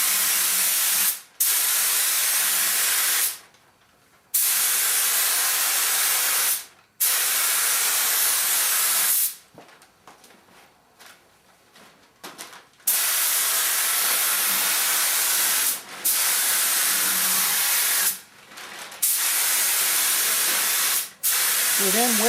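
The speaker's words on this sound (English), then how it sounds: "Now we're going to put the 5th coat of paint on the top." Spray gun applying a fifth coat of red paint to a car body, a steady loud hiss in long bursts broken by several short pauses, with no talk.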